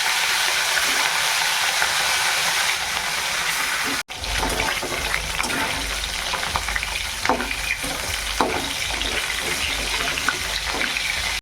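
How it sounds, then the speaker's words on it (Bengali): Rohu fish frying in hot oil in a kadai, a loud, continuous crackling sizzle with a brief break partway through, heard up close with no one speaking. "এই যে রুই মাছটা ভেজে নিয়েছি"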